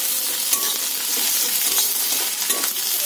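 Ginger and garlic fry with already browned onions in a pan, giving a steady close sizzle with occasional stirring clicks and scrapes of a utensil.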